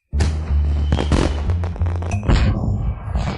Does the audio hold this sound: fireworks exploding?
yes